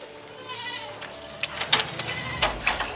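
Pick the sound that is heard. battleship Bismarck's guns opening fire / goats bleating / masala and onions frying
goats bleating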